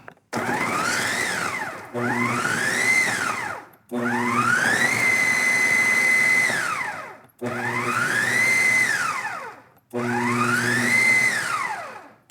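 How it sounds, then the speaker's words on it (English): A food processor pulses seitan for a vegan pasta sauce in five loud, close bursts of motor whine, each lasting about two seconds and rising then falling in pitch, with brief silent gaps between them. "we bring it over to the food processor area and blitz it up into little bitty pieces. And I just kind of pulse it until it's the right texture"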